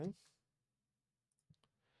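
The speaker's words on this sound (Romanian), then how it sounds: "țin Ctrl Shift și dau click pe ea" A computer mouse button gives a couple of quick, sharp clicks while a page layout program is in use, close and faint in a quiet room, after a brief bit of speech at the start.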